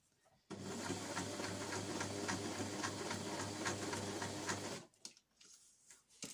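A sewing machine stitches fabric for reusable snack bags, running in one steady, rapid, clattering burst for about four seconds before stopping, followed by quieter handling of the fabric.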